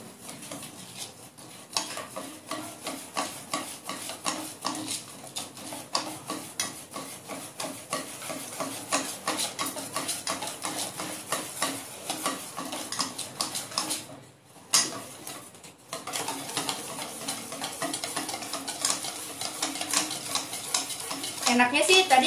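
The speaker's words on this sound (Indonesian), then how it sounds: "Kita aduk sampai dia halus" A spoon stirs gluten-free chocolate batter for banana rolls in a bowl, producing a steady, rhythmic scraping and sloshing that continues close up for over twenty seconds with a brief pause.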